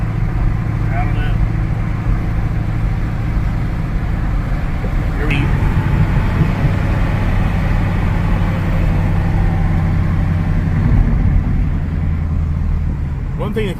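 A car drives along the road, heard from inside the cabin as a steady low engine hum and road rumble that continues throughout.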